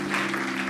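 Brief burst of audience clapping for Kees-Jan Pen at a gathering in Helmond, dense and even, over a steady low electrical hum.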